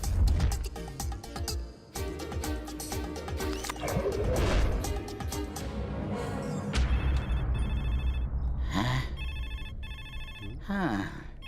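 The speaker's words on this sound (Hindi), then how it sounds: "इन्हें तो फोन भी सुनाई नहीं दे रहा है" A telephone rings in a dubbed Hindi comedy film scene, repeated electronic trills cutting through the latter half over busy music and crashing effects, with brief voices nearby.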